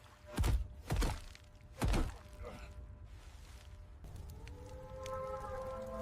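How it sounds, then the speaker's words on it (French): Three heavy, dull thuds strike close together in the first two seconds, then a low, wavering siren-like drone hums on. "Des coups sourds et lourds de métal sur la pierre."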